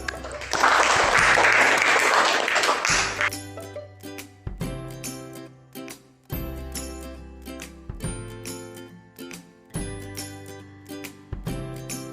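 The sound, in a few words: applause in a classroom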